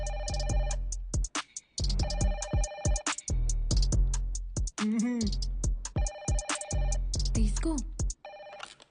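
A telephone rings in repeated bursts of an electronic bell ringtone, loud and steady throughout, while people talk briefly over it.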